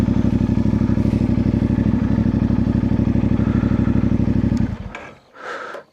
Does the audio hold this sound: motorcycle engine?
yes